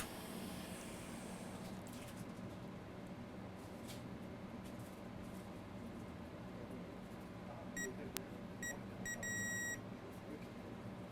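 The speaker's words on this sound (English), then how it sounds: "We should have a beep from here." Short electronic multimeter continuity beeps, a few brief bursts and one longer tone, sound faintly near the end over a steady low hum of background noise.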